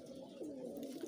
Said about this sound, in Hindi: ये एक अच्छा कबूतर है